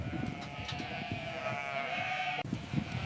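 Sheep bleat repeatedly on a sheep farm, a sustained nasal cry near and fairly loud, with brief pauses and a short break near the end before another bleat starts.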